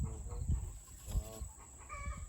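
Chickens in a backyard garden coop, several short clucking and crowing calls in quick succession, fairly faint and alone, with no talk.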